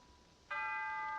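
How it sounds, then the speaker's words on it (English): A giant clock bell strikes midnight as a radio drama effect: one loud, sudden bell stroke that rings on with a sustained, shimmering metallic tone. "The last bell."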